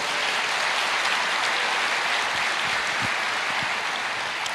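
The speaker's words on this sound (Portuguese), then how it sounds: "Pode aplaudir, porque o Senhor merece." A church congregation applauds during a sermon, with dense, steady clapping from many hands that fills the room evenly and holds throughout without a break.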